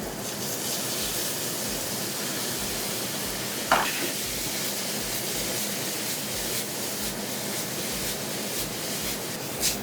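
Brown sugar, julienned red onions and diced Granny Smith apples cook in pork fat in a pan, a steady broad sizzle with occasional stirring scrapes and a brief spatter burst, no talking.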